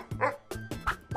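A dog gives three quick, close barks with short yips in a rapid rhythm, loud and distinct with brief gaps between them.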